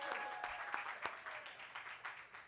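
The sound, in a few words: applause at a holiday market press preview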